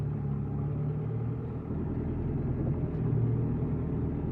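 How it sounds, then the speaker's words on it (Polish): A 2003 Fendt 411 Vario tractor, 118 hp, fitted with a Trima Professional 465 front loader, runs with a steady low engine rumble at close range, holding even throughout with no talk over it. "Jest to prosty traktorek, fajny."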